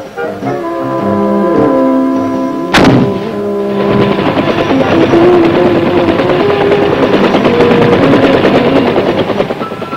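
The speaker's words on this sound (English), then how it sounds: "Mr. Mitchum is given the opportunity to fire some of the weapons of the real-life heroes in Vietnam" Vietnam War-era weapons firing, a sharp loud blast followed by a long dense roar of sustained automatic gunfire under droning, continuous and close with no talk.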